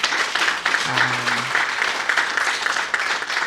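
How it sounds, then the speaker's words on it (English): Steady applause from a conference closing plenary crowd, a dense wash of clapping that holds evenly throughout, with a brief low hum partway through. "You deserve a big round of applause for pulling all this together."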